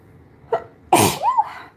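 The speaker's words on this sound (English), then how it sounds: "I'm going to sneeze." A sharp inhale followed by one loud, explosive sneeze up close, trailing into a short voiced exclamation.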